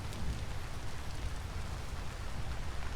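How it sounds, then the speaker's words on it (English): Rain pattering on leaves in the game Vintage Story, a soft, dense, steady patter with no pauses and no voices. "Oh, did you hear how the rain changed the sound of it? You can hear it hitting the leaves now."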